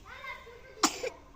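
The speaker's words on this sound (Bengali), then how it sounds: "ঠান্ডা লাগছে তাই কাশতেছে" A child with a cold coughs twice in short, sharp bursts close by, each cough standing out above a quieter background where a voice can be heard talking.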